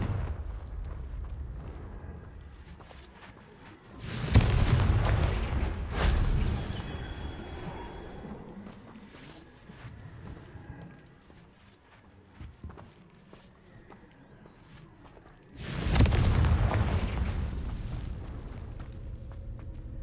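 Two explosive spells from Hogwarts Legacy go off several seconds apart, each a loud booming blast with a rumbling tail, and the quieter stretches between them hold faint ambient game sounds.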